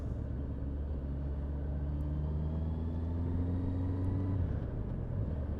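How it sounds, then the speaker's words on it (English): A car creeps along at walking pace over a series of speed bumps, a steady low engine rumble and drone heard close by. A slight rise in pitch comes near the end. "this car, man, it's going like 2 miles an hour over these speed bumps"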